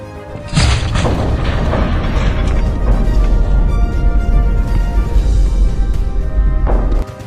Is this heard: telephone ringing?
no